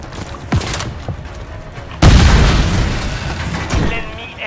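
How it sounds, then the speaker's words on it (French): A Semtex grenade bursts in Call of Duty Modern Warfare 3, with a loud, close boom followed by a rumbling tail, after a few sharp gunshots earlier. "Je lance du Semtex."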